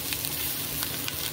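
Onions sautéing in a pan, turning translucent, give a continuous dense sizzle, close and even, with faint crackles and no talk.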